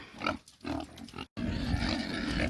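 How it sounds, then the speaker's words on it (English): Pigs on a farm, low grunting and snuffling close by in short irregular bursts, with a brief cut partway through and a steady rough background afterward. "there's the pigs"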